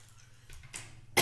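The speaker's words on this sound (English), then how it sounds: "now I'm going to cough" A single sharp cough from a woman in a quiet room bursts out loudly near the end after soft, indistinct sounds.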